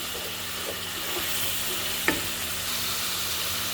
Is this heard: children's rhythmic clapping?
no